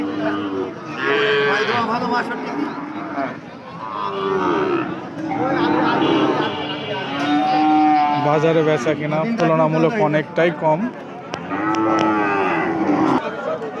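A cow and bull calf at a cattle market give loud, long moos one after another, close by, while someone talks over them throughout.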